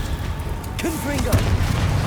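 In Hogwarts Legacy, a Confringo fire-blast spell goes off as a short booming burst under a voice speaking.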